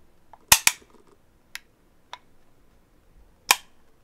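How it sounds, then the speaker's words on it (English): AK rifle shots ring out at a shooting range: a rapid pair of sharp reports, then two lighter cracks, then one more loud shot, each crisp and close with a short decay. "when I say fire, pull the gun up, safety off, trigger, safety back on"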